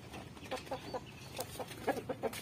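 Chickens cluck at feeding time, with a string of short, fairly close clucks and calls spaced through the moment, plus soft farmyard shuffling underneath.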